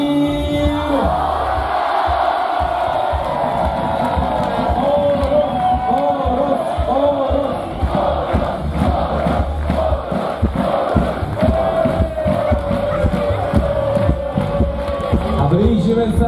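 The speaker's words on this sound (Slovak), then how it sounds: "A tento moment teraz veľký aplauz." An arena crowd roars and cheers as the Banská Bystrica ice hockey players take the stage for the championship celebration, a loud, sustained wall of voices with steady clapping underneath.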